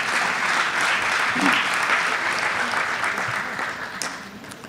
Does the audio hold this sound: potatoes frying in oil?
no